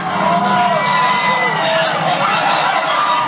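An overflow crowd at a 1996 high school football game between Kannapolis and Concord cheers and shouts in a dense, steady roar, with a commentator talking over it throughout.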